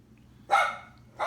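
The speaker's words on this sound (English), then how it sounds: "My dog." A dog gives two sharp barks close by, a loud bark followed moments later by a second one, over a faint low background hum.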